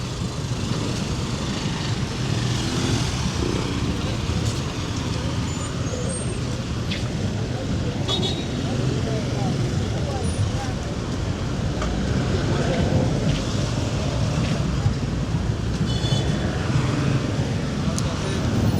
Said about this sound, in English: There is a jam that is building up right here.